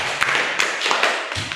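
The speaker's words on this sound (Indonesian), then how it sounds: "Beri tepuk tangan untuk nilainya yang sudah bagus." A few people in a classroom giving brief, scattered applause, a short burst of light taps and claps lasting under two seconds.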